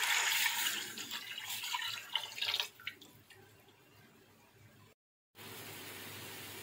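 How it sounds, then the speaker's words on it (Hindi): Water poured from a glass into a pot of fried garlic, ginger and green chillies for mutton mandi, a loud splashing pour that fades to a quieter trickle, a brief silence, then a steady hiss. "अब इसमें 5 गिलास पानी ऐड कर देंगे।"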